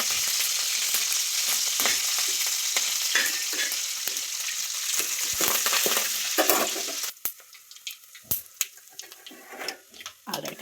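Mustard seeds, crushed garlic and curry leaves fry in hot oil for a bitter gourd fry, a loud continuous sizzle with crackling pops and stirring, which abruptly dies down to scattered quiet crackles partway through.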